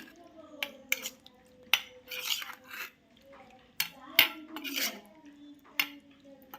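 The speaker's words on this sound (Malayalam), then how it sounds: "ഈ സ്പൂണോട് ജസ്റ്റ് ഒന്ന് ഇങ്ങനെ ഇളക്കി കൊടുക്കാം" A spoon scrapes and clinks against a pan while stirring a sardine filling, close intermittent metallic taps and scraping strokes with quiet pauses between them and a low faint voice murmuring underneath.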